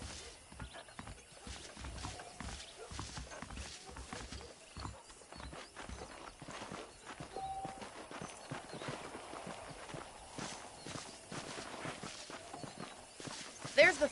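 Horse hooves clip-clop at a steady walking pace in the Western video game Red Dead Redemption, with a rhythmic, moderately close plodding that runs throughout, joined by faint ambient game sounds.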